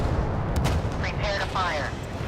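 Warship guns firing in the naval video game Force of Warships: a couple of sharp booming shots early on, followed by tonal voice-like radio chatter layered over a low rumbling background.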